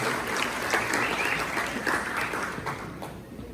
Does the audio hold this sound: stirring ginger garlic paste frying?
no